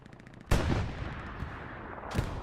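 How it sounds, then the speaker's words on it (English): A grenade blasts onto an outpost in the World War II shooter Hell Let Loose, a sudden loud explosion followed by a rumbling tail and a second burst near the end. "Eagles throws a grenade onto the OP."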